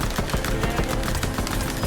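Rapid pistol fire in Fortnite, a dense run of sharp shots cracking in quick succession with no pauses, loud and busy across the whole stretch.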